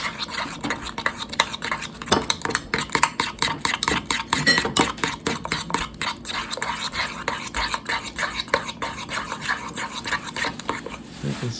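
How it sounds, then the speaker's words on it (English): Ice cream spoon stirring a thick, gooey homemade bubble solution in a container, rapid rhythmic clinking and scraping strokes repeating steadily, close and fairly loud. "one of my ice cream spoons to mix this up so it's nice and solid"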